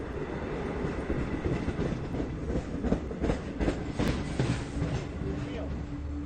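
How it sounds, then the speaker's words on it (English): A Long Island Rail Road passenger train, the Cannonball, rolls past nearby at Westhampton with a continuous rumbling roar and rhythmic clickety-clack of wheels over rail joints, fairly loud throughout. "An empty train, my wife said."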